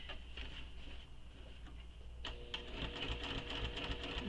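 A sewing machine stitches at a moderate pace, a faint rhythmic whir and patter that picks up slightly partway through, quiet and close without speech.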